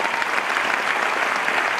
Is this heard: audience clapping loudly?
yes